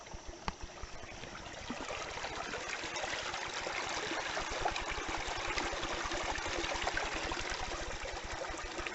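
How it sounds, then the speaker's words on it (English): Waterproof boots wade through a shallow creek in the woods, a steady close sloshing and trickling of water with rhythmic splashes from each step, fairly quiet and with no voices. "instead of crossing the log to cross the creek, I'm just going right through the creek."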